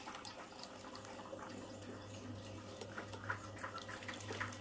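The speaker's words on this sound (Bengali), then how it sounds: "দেখুন জলটাকে আমি একটা বাটিতে ফেলে দিচ্ছি।" Rinse water from washed flattened rice (chire) poured into a bowl in a home kitchen, a soft steady trickle and splash over a low hum.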